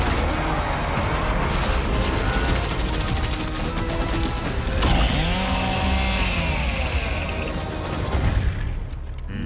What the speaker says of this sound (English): The creation of the Chainsaw Lancer is another origin story from lore that we wanted to show in E-Day.